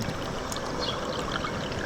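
Water, 500 millilitres, is poured into a peach-flavoured MRE energy drink pouch, a soft steady trickling stream heard close for a couple of seconds.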